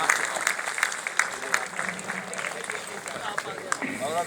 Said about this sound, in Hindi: जोरदार तालियों से इस परिवार का स्वागत कीजिए।